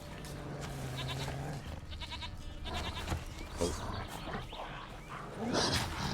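Goat bleats from the video game The Witcher 3 come in short repeated calls amid game ambience and other in-game sounds, with no speech over them.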